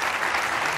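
Steady applause from a studio audience during a Spanish-language talk show, dense and continuous with no gaps through the short burst.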